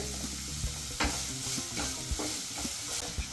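Food sautéing in a pan with a little salt, with steady sizzling and frying under repeated spoon stirs and scrapes at close range, no talking.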